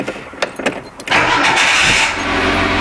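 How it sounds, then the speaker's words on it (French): A Renault Super 5 engine cranks with a few stuttering turns, then catches without choke and settles into a steady, close idle. "Le véhicule démarre sans starter."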